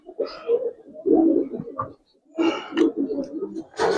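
Giribaz pigeons coo nearby in soft, throaty bursts, with a brief pause mid-way before the cooing resumes, ending on a sharper flutter or rustle.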